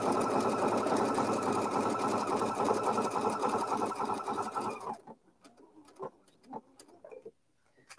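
A sewing machine with a circular attachment runs a triple stitch in a fast, even mechanical patter for about five seconds, then stops, leaving a few soft handling clicks and taps.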